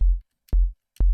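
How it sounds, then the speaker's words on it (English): Synthesized kick drum made in the Serum synthesizer: three punchy, deep electronic thumps, each with a short click attack and booming low tail, evenly spaced about half a second apart, close and alone. "Here's how to create a kick drum in Serum."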